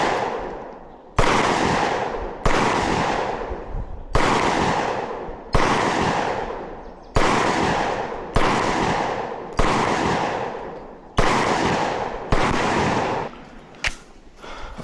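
Pistol shots at a shooting range from a Canik MC9 Prime or TTI Combat handgun, about nine loud sharp reports fired at a steady, roughly one-and-a-half-second pace, each ringing briefly before the next, with a lighter final shot.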